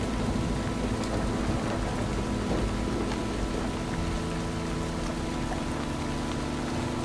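Steady rain and rolling thunder in the video game The Eternal Castle Remastered, a dense, continuous storm wash with low rumbles that stays loud and even throughout, with no talk over it.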